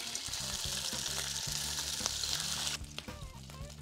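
An egg frying in butter gives a dense, close sizzle that holds steady, then abruptly drops away near the end, with a faint low tonal hum underneath.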